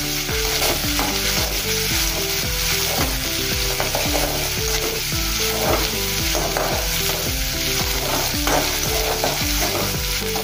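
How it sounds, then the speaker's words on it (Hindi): Chopped onion and green chili sizzle loudly in hot oil, with a steady crackling fry and a spoon scraping and stirring through the pan, close up with no talking. "प्याज और हरी मिर्च अच्छे से चल गई है इसमें तेल में"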